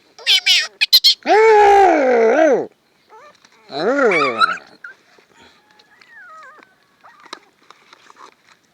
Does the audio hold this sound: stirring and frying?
no